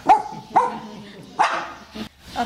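A dog barks several times close by, with short, loud woofs spread irregularly over a couple of seconds and slight whimpering tones between them.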